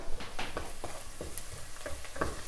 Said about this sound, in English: let's give our onions a little stir